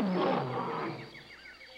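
Several voices imitate a lion's roar together in a brief, growling burst that swells and then fades, moderately loud and close.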